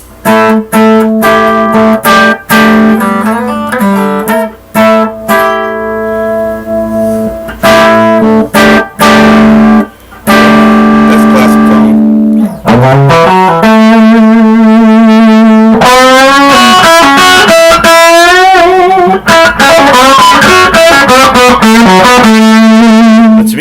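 An electric guitar played through a heavily distorted amp, loud buzzing chords and sustained notes, with a wobbling effect in the later phrases.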